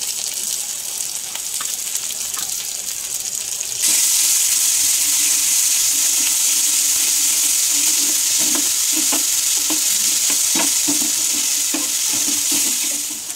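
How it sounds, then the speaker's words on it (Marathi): A ground spice paste for a fish dish fries in a pan with a constant close sizzle that jumps louder partway through as more goes in, with light stirring clicks and scrapes. "वाटण सुद्धा छान फ्राय करायचं."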